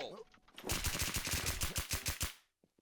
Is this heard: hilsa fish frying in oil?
no